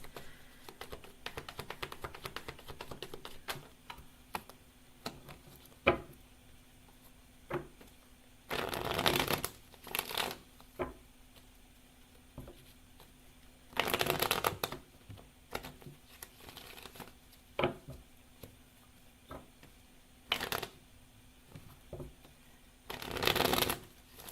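Tarot cards shuffled in bursts of riffling and sliding, with louder flurries recurring every few seconds amid soft handling taps and rustles, close and fairly quiet, no talking.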